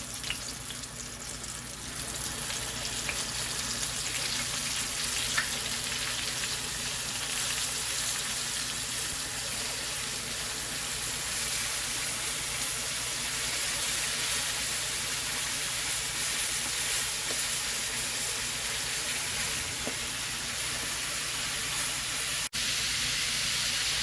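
Liver pieces frying in hot oil in a pan for Southern fried liver and onions, giving a steady, dense sizzle and crackle that holds evenly throughout with no talking.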